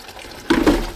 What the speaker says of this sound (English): Let's go ahead and fill this tank up